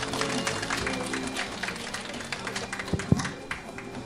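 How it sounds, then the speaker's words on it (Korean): An audience at a university industry-academia cooperation workshop applauds to welcome a speaker, moderate clapping mixed with room noise and a few sharper taps, with some voices underneath. "큰 박수로 맞이해 주세요."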